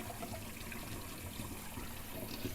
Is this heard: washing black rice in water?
yes